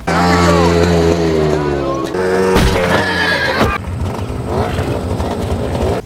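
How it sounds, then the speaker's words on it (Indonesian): In a film scene, a wild horse struck by a motorbike lets out a loud, close neigh that falls into shaky whinnying, while engine noise and excited voices run underneath. "salah satu anak buahnya tidak sengaja menabrak kuda liar"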